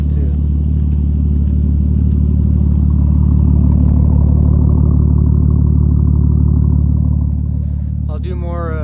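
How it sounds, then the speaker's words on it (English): Nissan R34 Skyline, freshly swapped to a manual gearbox, running with its exhaust rumbling in a deep, steady idle drone that holds loud throughout, and a voice cuts in briefly near the end. "The exhaust sounds awesome too."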